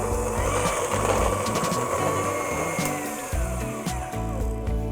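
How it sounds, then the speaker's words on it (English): An electric hand mixer whirs steadily while blending cake batter with coconut cream extract for a mango coconut cake, a continuous close motor drone with slight shifts in pitch and no talking. "Now we'll just mix that together with our hand mixer until completely combined."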